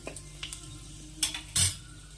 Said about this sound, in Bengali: তেলটা গরম হলে দুটো শুকনো লঙ্কা দিয়ে দিলাম এখন দুটো তেজপাতা দিয়ে দিলাম আর দেবো হাফ চামচ পাঁচফোড়ন এখন এভাবে একটু নেড়ে চেড়ে দিতে হবে